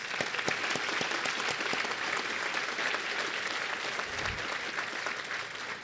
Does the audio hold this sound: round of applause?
yes